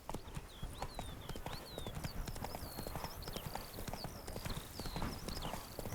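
Roach the horse galloping in The Witcher 3, with rapid, rhythmic hoofbeats running close and steady throughout, and faint chirping above.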